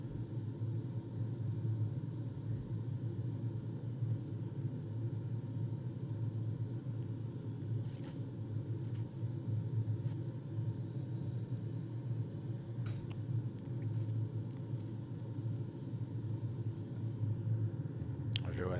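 A light aircraft engine drones low and steady in the cockpit while approaching to land on a runway in Romania, with a constant rumble and faint intermittent clicks over the whole stretch.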